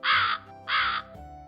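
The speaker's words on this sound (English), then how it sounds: "the crow was the same bird, with green eyes that would glow" A crow caws twice, two clear, harsh calls close by with a short gap between them and quiet after.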